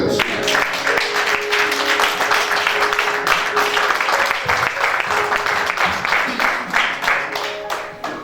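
Church congregation applauding during a French-language worship service, a dense, steady wash of clapping across the whole stretch with faint voices and a sustained musical tone underneath, fading slightly at the end.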